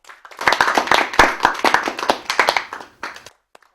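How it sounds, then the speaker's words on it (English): A classroom of students claps during a grammar lesson, a fairly close burst of individual sharp claps that builds, holds for a few seconds, then tapers off with a few stray claps at the end. "Correct. Let's clap for them."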